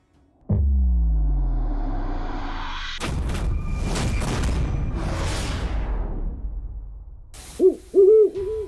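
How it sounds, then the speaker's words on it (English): A great horned owl gives a few deep hoots near the end, after a loud booming impact and a long rushing whoosh that fill most of the stretch. "Meet the killer of killer birds, the great horned owl"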